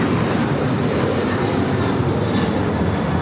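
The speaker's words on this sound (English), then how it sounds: "Next arrival is China Airlines Cargo 777 freighter" China Airlines Cargo Boeing 777 freighter arriving at Los Angeles International Airport, a loud, steady, broadband jet roar that holds constant throughout, heard alone and without talk.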